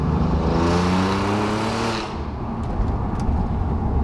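An Alfa Romeo Giulia Quadrifoglio with aftermarket downpipes revs hard above 4,000 rpm with a raspy, droning exhaust note, climbing in pitch before easing off, loud and close.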